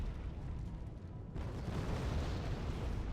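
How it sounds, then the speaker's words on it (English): Bombs land and explode in the Wargame: AirLand Battle war game, a low rumbling roar that swells into a broad, sustained blast partway through, with no talk. "we're gonna have bombs landing on me"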